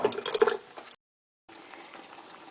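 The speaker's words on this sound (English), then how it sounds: "The soup is boiling." Potato soup boiling in a pot on a stovetop gives a soft bubbling and simmering, fairly quiet and close, broken by a short silent gap before the bubbling resumes.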